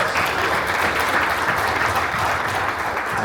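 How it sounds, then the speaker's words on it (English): A community gathering's audience gives a dense, steady round of applause, many hands clapping continuously at close range with no talking over it. "Round of applause"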